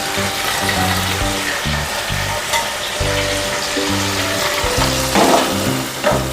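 Washed potatoes frying in hot oil in a home kitchen for a Bengali tangra fish curry, a steady dense sizzle running throughout with light stirring and soft background music underneath.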